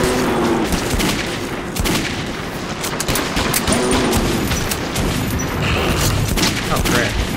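Gunfire in the first-person shooter game Metro 2033, a dense, loud barrage of shots and booms running through the whole stretch alongside game noise and a voice.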